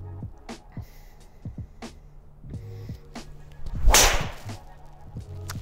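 A Titleist TSi3 driver strikes a golf ball during driving range practice, giving one sharp, loud crack near the end amid fainter scattered clicks.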